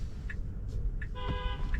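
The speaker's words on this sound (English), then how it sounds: "People mad, honking at us" Car horns honk in traffic near a hard-braking car, with two or three short toots followed by one longer, steady blast, heard over a low road rumble.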